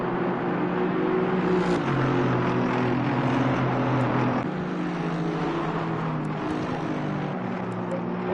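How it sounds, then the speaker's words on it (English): Aston Martin GT4 race car engine in the racing game Assetto Corsa Competizione at Silverstone, a steady droning engine note with shifting pitch, held at a moderate level throughout and dropping slightly in volume partway through. "let's pop the engine sounds down a bit"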